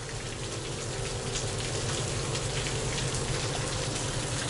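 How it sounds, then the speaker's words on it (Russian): Steady summer rain pours continuously on a Moscow avenue, a dense broadband hiss with a low rumble beneath, loud and close, with no voices. "дождь."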